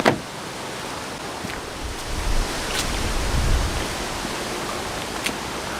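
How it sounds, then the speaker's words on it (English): Water poured over waxed car paint during a water test, a steady broadband splash and hiss with a few soft knocks, fairly quiet and without talk. "We're just doing a bit of a water test here, as we do, a wee bit of water play"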